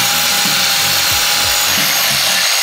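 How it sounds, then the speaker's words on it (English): A grinder works over the bare metal support bar behind the dashboard of a Toyota Trueno, giving a steady, loud abrasive hiss with a few lower rubbing pulses beneath it. "So I'm gonna hit it with the grinder"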